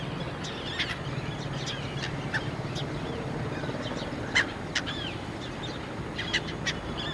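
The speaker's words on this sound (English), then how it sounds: "See how they're enjoying birds." Winter birds calling around Lalpari Dam near Rajkot, Gujarat, India: scattered short chirps and calls, some fairly close, over a steady outdoor background hiss with no talking.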